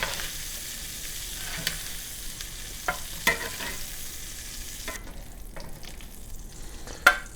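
Breakfast sausage frying in a skillet gives a steady, soft sizzle throughout, broken by a few light clicks and scrapes from stirring.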